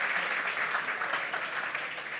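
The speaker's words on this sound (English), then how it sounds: "Give yourselves a round of applause." Audience applause at a sales skills seminar in Nashville, a dense steady wash of many hands clapping that fills the whole stretch at even loudness, with no talk over it.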